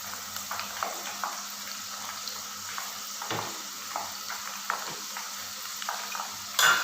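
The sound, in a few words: potato chips (fries) frying in oil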